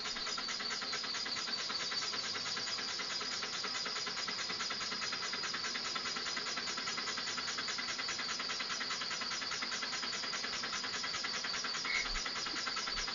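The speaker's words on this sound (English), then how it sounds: "The engine can run continuously." A do-it-yourself steam engine runs steadily for the whole stretch, giving off a continuous mechanical hum and chuffing with no speech over it.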